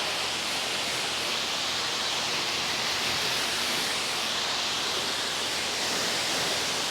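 A water spray hoses red dirt off a rooftop tent, a steady, dense hiss of spraying water that stays constant and close throughout, with no talk.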